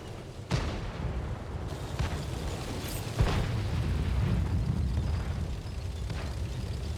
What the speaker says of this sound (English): I'm about to get hit by artillery fire.